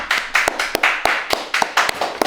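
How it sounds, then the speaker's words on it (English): Separate, distinct hand claps from a few people come in an uneven rhythm, each one sharp and close, with short gaps between bursts. "Everyone clap."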